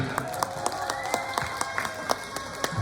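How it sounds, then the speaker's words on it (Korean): Spectators at a Korean bullfight, where bulls lock heads, give scattered applause, with irregular individual claps over a steady outdoor crowd murmur. "관객 여러분들은 박수를 주셔야 됩니다"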